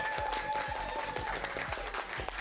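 A studio audience at a quiz kids competition breaks into steady applause, dense and sustained with a low rhythmic thump running beneath the clapping.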